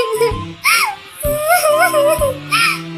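A cartoon bird character crying in a Hindi animated children's story, a high, wavering sobbing voice in short repeated wails, close and loud.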